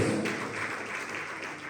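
A church congregation applauds together, a soft continuous wash of clapping that fades slightly, heard from a distance in a large room.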